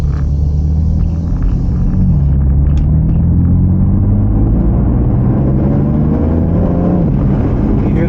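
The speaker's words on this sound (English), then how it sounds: "You hear that turbo noise?" A 2014-2019 F80 BMW M3 engine revs loud and close, with a steady deep rumble and rising and falling harmonic sweeps as the revs climb and drop, the turbo audible, no talk over it.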